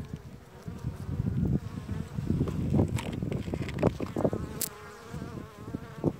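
A dense swarm of honeybees drones at an opened hive behind the frame divider, a loud, close, continuous buzz with individual bees flying by near the microphone.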